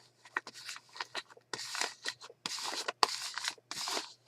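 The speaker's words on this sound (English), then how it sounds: "I'll have to finagle this and cut it with scissors" Scissors cut through paper for a planner in a quick, uneven run of crisp snips and rustles, heard close and alone with brief pauses between strokes.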